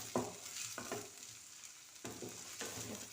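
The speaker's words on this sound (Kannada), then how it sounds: "ಈಗ ಶುಂಠಿ ಬೆಳ್ಳುಳ್ಳಿ ಪೇಸ್ಟು ಸ್ವಲ್ಪ ಇವಾಗ ಅದನ್ನು ಕ್ಲೀನಾಗಿ ಫ್ರೈ ಮಾಡ್ಕೋಬೇಕಾ" Ginger garlic paste fries in a pan with a steady broadband sizzle, broken by a few sharp scraping stirs near the start and again later, close and moderately loud with no talking.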